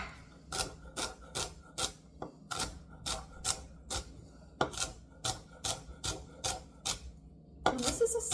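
Chef knife slicing celery on a cutting board after the stalk is split down the middle, a steady run of crisp, sharp chops about twice a second, close and clear, with a brief clatter near the end.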